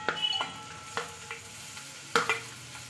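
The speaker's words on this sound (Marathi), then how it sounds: "हे सोबत टाकून घेऊया आणि याला सॉफ्ट होईपर्यंत आपण परतून घेऊया" Capsicum and tomato sautéing in a pan for Mumbai masala pav, heard as a soft, low sizzle broken by a few sharp spatula scrapes and taps against the pan.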